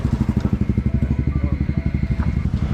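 A motorcycle engine idles close by as the bike stops at a hill viewpoint near Haflong, Assam, pulsing in a fast, even thump with some clatter.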